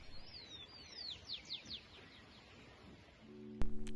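Birds singing across a valley in Boquete, Panama: a quick run of high, descending chirps in the first two seconds over soft outdoor hush, then a lull and a brief low thump near the end.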